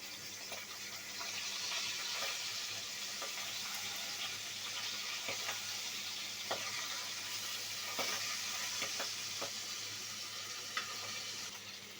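Cut bata fish pieces frying in oil, giving a continuous soft hiss and sizzle with scattered crackles throughout, fairly faint and with no talk.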